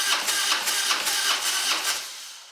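A Harley-Davidson Dyna motorcycle engine cranks over on its starter during a compression test, giving about six rhythmic chugging pulses close by before the cranking stops and fades out.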